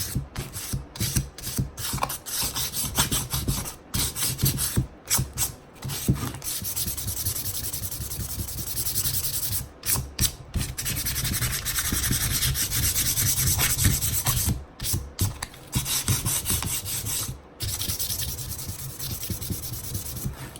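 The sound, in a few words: sanding the edges of painted wood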